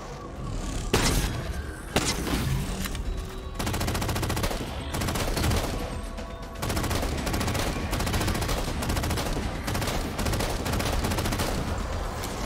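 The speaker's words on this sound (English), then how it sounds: "binary rifle." Repeated binary rifle shots in Halo 4, loud and close, sharp discharges spaced a second or two apart over a constant roar of battle noise and chattering fire.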